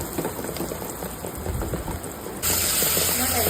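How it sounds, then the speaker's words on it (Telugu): Tomatoes hitting frying onions in a pan for a raw banana curry, a continuous close hiss of sizzling that jumps louder and brighter partway through as they go in. "టమాటా వేసుకున్నాను. కొంచెం వేగలేద్దాం."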